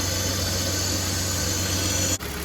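A rebuilt BMW E46 with an M54 engine idles steadily nearby, a smooth, even hum with a constant low drone that cuts off abruptly near the end.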